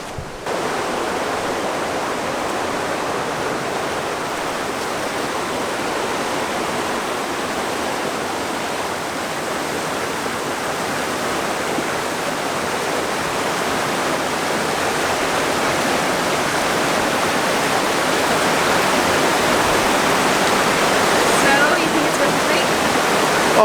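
Rushing water beside a hiking trail on São Miguel in the Azores, a dense, steady broadband roar like a nearby waterfall or stream, constant and loud throughout.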